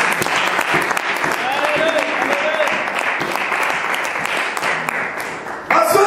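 A church congregation bursts into loud, sustained clapping that fills the room for several seconds, with voices mixed in and a sharp change in sound near the end.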